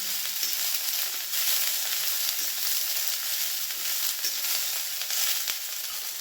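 Chowmein vegetables frying in a hot pan, a close and steady loud sizzle with crackling spatters and the odd scrape of stirring, with no talking.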